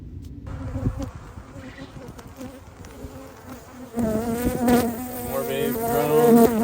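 Dense, continuous buzzing of many honeybees close by inside a hive, swelling louder and more layered in the second half with overlapping drones.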